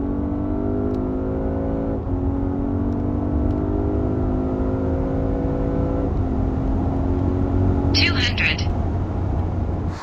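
A tuned 1130 bhp Porsche 991 Turbo S running on 99 fuel pulls hard at speed, its engine drone climbing steadily through long gear-held stretches with brief shift breaks, loud and continuous, while a voice talks over it.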